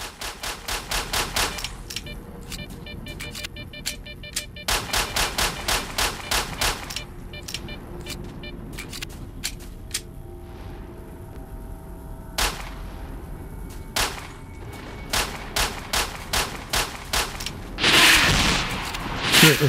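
Bursts of gunfire in the modded shooter Stalker: Shadow of Chernobyl, sharp repeated shots in clusters with short pauses between volleys, loud and close, plus a louder blast near the end.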